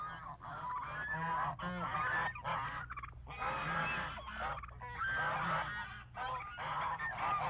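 A crowd of common pochard ducks on the Nakdong river estuary calls in a dense, continuous chorus of harsh honking and growling notes, with many overlapping birds at moderate distance.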